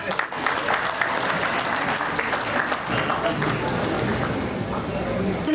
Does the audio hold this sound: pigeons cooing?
no